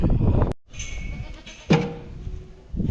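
Goats bleat intermittently nearby, with a sharp clatter or bump partway through and muffled barn noise around the calls.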